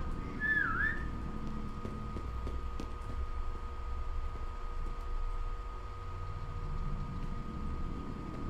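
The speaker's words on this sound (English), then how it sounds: "He's going nuts on the whistle button." Whistling from the whistle button in the video game Underhell, one short rising-falling whistle near the start, then a low game ambience with faint clicks and hum.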